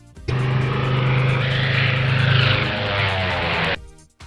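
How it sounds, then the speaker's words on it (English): A biplane's propeller engine drones in a loud, steady roar for several seconds, swelling slightly mid-pass before stopping abruptly, with no voices. "biplane"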